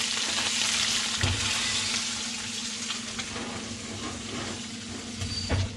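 Pork chops sizzling in a hot pan with rosemary and sage, a dense steady frying hiss with a low hum and a couple of clanks from turning or handling, close and without talk.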